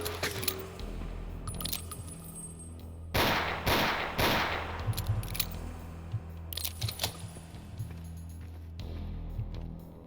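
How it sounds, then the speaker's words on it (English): Shotgun blasts in the Ashes 2063 first-person shooter, a few loud, broad booming shots with mechanical clacks between them over a low droning game backdrop, no talking. "Shotgun's actually got some pretty good range on it."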